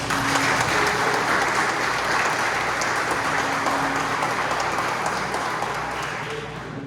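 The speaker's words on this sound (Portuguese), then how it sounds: "Você pode dar uma salva de palmas ao Senhor Jesus?" A church congregation applauds for Jesus in a steady, dense wash of clapping that holds at full strength throughout and eases slightly near the end, with faint voices mixed in.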